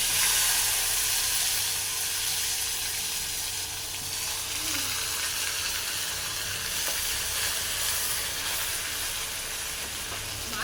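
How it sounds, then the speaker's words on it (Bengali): Onion paste frying in hot mustard-style oil in a kadai while cooking a ribbonfish curry, giving a steady, close sizzle with soft hiss throughout and no talking. "তেলটা গরম হয়ে গিয়েছে, এখন দিয়ে দেবো পেঁয়াজ বাটা।"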